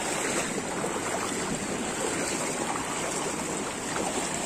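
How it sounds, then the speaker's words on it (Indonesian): Steady rushing water of a shallow river stream, a continuous even wash heard up close with no voices, as someone wades across on foot. "nah ini kita nyebrang sungai ya, yang kedua kali"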